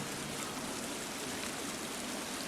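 Waterfall trickling and splashing into a large pool inside a cave water system in the survival video game The Forest, a steady, dense wash of falling water that holds even throughout with no break.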